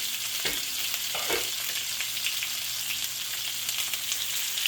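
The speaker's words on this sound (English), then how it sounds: "we're going to use all that flavor in the pan to cook up the sausages" Sausages frying in a flavored pan over medium heat, a constant close hiss and sizzle with a couple of soft stirring scrapes near the start, no talking.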